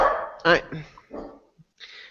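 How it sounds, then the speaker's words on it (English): A pet dog barks indoors, a few sharp yips and barks in quick succession, fairly close, followed by a brief high whine. "Lynn is barking."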